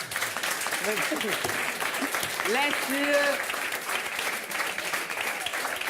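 A French television studio audience applauds Mehdi, a steady bed of clapping with laughter and cheering rising over it, while a voice speaks briefly near the start.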